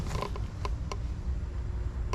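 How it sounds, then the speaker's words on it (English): A metal door on a Cushman Truckster utility vehicle creaks open in short, close squeaks and clicks over a low rumbling background, with no voices heard. "I guess I could open the door for you guys."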